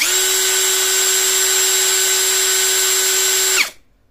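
MLHY 20V cordless drill running at speed 3, a steady high motor whine with bright harmonics, held for about three and a half seconds before cutting off and spinning down quickly.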